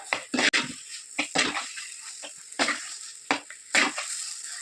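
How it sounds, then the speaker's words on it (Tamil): Fried okra is stirred into masala in a pan: about eight brisk, loud scraping strokes of a spoon against the metal, each followed by a brief sizzle, with no speech. "சேர்த்துட்டு நல்லா கலந்து கொடுத்துக்கோங்க மசாலாவோட"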